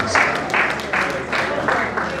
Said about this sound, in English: Please, let's give a round of applause, please.